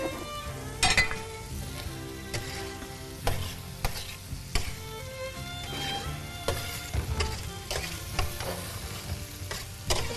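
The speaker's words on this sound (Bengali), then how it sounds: "এবার এটা মাটনটা দিয়ে দিলাম এখানে আছে 450 গ্রাম সিদ্ধ মাংস" Boiled mutton cooked with yogurt, whole garam masala and spices, sizzling in a pan while a spoon stirs and scrapes in frequent clattering strokes.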